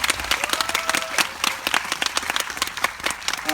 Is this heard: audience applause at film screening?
yes